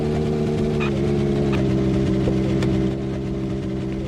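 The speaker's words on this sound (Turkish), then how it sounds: "Şu benim arabayı susturamıyor muyum ya? Hayvan gibi çalışıyor çünkü." A car engine in a horror video game runs loudly and steadily, a droning hum with a strong low rumble that holds throughout, with faint clicks over it and no talk.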